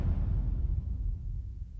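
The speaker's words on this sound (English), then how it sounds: "on a reverse kick, it kind of makes like a huge like whoop sound." A reversed kick drum swells as a deep, rumbling low-end whoosh that starts full and slowly thins out, heavy bass with little top, on its own for under two seconds.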